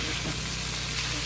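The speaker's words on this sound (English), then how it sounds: "To fry the other side of the fish." Fish frying in a non-stick pot gives a close, continuous hiss of sizzling oil in a brief, unbroken stretch.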